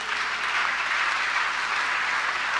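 A church congregation applauds to acclaim Jesus during a Sunday morning service, steady sustained clapping from many hands filling the room with no voices over it.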